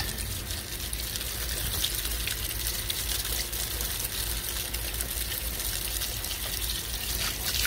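A garden hose sprays water onto the radiator fins of an SL550 to rinse off coil cleaner, making a continuous splashing hiss with a steady gushing texture and no talk over it.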